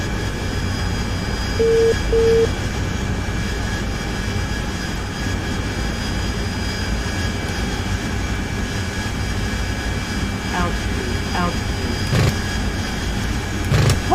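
Aircraft engines rumble and whine at an airbase in the DCS World flight simulator, a steady jet drone with tonal hums and a few faint clicks, carrying on alone without talk.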